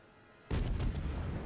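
Naval artillery from warship guns in the World of Warships game erupts suddenly after near silence, a loud close salvo of several overlapping booms with a rumbling tail.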